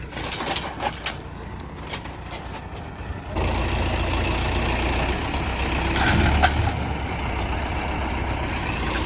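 A tractor engine idles steadily with a low rumbling throb that grows fuller after a few seconds, with faint clinks and background noise.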